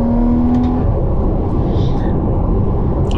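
Porsche Cayman 981 with the 2.7-litre naturally aspirated engine and PDK gearbox, a loud, steady engine drone heard from inside the cabin, holding a constant pitch throughout.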